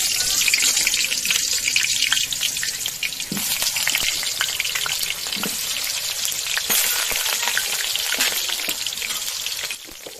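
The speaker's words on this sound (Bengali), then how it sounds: "এবার আলুটা আগে ভেজে নিব।" Washed potato pieces frying in hot oil with turmeric and salt, a loud continuous sizzle and hiss with bursts of crackling and stirring scrapes, close up and without talk.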